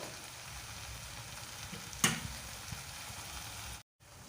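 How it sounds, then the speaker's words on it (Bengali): Beto shak greens fry in a pan over a high gas flame, giving a steady close sizzle with one sharp clink of a utensil midway, before the sound cuts off briefly near the end. "শাকটা ভাজা ভাজা হওয়ার জন্য অপেক্ষা করতে হবে"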